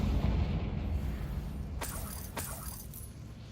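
The Confringo blasting spell in Hogwarts Legacy lands as a deep boom followed by two sharp crackling bursts, loud over a low rumbling background with no one speaking.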